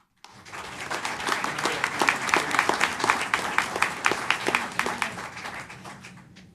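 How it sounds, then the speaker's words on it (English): Audience at a San Angelo city council meeting breaks into applause, a moderately loud wash of clapping hands that starts abruptly, holds steady for several seconds, then tapers off. "So applause goes to them."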